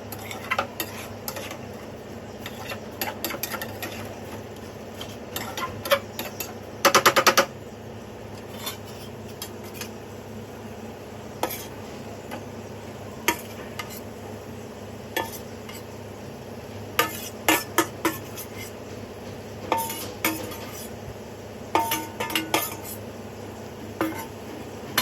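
Potatoes and paneer stirred in a pan, with repeated close utensil clinks and scrapes against the metal at an irregular pace over a steady low background, and one louder burst of clatter.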